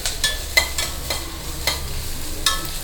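Onions sauté in a pan for tomato kurma, a steady close sizzle with regular stirring strokes scraping through it.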